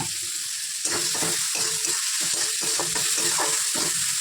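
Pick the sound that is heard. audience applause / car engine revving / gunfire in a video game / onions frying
onions frying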